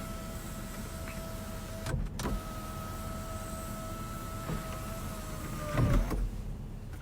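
Power sunroof on a 2021 Toyota Tacoma Limited Nightshade Edition, a steady electric motor whine running for several seconds with a couple of clunks as it stops and restarts, ending in a louder mechanical thunk; no talking.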